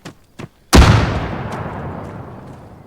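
A grenade goes off in the military video game Arma 3, preceded by two short clicks and followed by one loud, close blast with a long rumbling decay that fades out.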